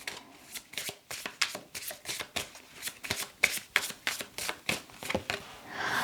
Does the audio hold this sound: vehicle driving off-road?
no